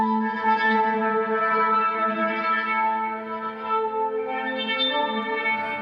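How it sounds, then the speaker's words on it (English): A sustained chord from the Fracture Sounds Trails Kontakt library with a lo-fi effect turned up, rich stacked harmonics holding steadily with slight wavering and a soft hiss underneath, played alone. "lo-fi adds a beautiful kind of unusual quality"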